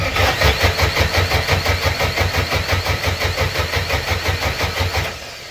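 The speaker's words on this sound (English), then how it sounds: "What I then did was try to start the engine." A Beta Marine JD3 diesel engine cranks on its starter with a steady, rapid rhythmic pulsing, close and loud, for about five seconds before cutting off abruptly.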